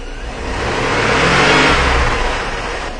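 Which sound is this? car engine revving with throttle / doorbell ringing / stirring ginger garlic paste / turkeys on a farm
car engine revving with throttle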